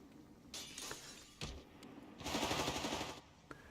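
Machine gun bursts rattle in Company of Heroes 3, an MG laying down suppression fire amid a gritty battlefield mix with crashing, shattering impacts and a sustained, dense stretch of rapid automatic fire.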